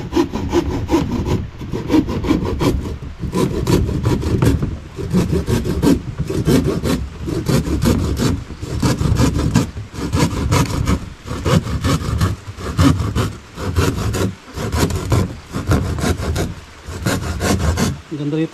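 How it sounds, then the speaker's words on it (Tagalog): A hand saw cuts through wood in steady back-and-forth strokes, loud and close, with faint voices now and then. "Buti may lagari tayong matalas."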